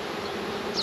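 Honey bees buzz around a hive that was just moved, giving a steady close hum that stays even throughout the short moment, with no voices.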